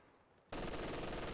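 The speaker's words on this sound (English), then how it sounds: "Conscripts being met by an MG42." In Company of Heroes 2, an MG42 machine gun opens up after a quiet moment, becoming a loud, sustained, dense rattle of gunfire that lasts to the end.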